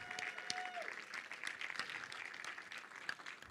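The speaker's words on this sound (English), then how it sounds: "Please give yourselves a round of applause." Audience applause at a thesis film festival ceremony, a faint, distant wash of clapping that runs steadily through the short stretch, with a brief tone early on.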